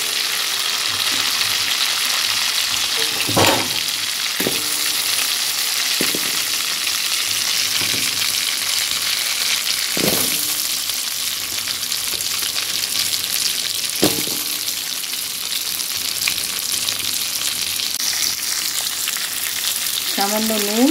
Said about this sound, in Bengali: এই তেলেই আমি কেটে রাখা আলুগুলো সামান্য নুন আর হলুদ দিয়ে ভেজে নেব।